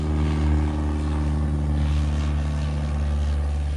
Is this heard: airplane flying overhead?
yes